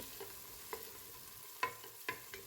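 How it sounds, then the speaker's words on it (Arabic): Chopped onion softens in three spoonfuls of oil in a deep pot, giving a quiet, steady sizzle with a few soft spoon clinks against the pot as it is stirred. "نحطوا فيه مقدار 3 ملاعق زيت، راس بصل صغير فرمته جويد، ونبدأ نحركوا فيه في الزيت حتى لين يذبل"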